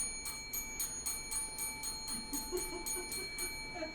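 A time-limit bell at an open mic night rings in a steady series of bright, repeated metallic strikes, roughly three or four per second, sustained across the whole stretch with a low murmur of room noise underneath.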